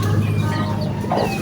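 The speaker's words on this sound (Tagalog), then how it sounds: "Wow, yung mga manok natin, no?" Native chickens cluck close by during a typhoon downpour in Ilocos, a short burst of clucking over a steady wash of rain.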